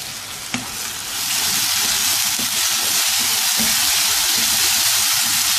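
Chopped tomatoes and sliced green chillies hit hot oil for dhaba-style egg bhurji with a knock, then a loud, close sizzle swells and holds steady as they are stirred.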